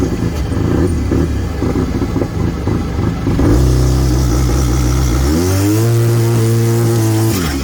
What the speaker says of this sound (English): Now we're just testing out a two-step launch control.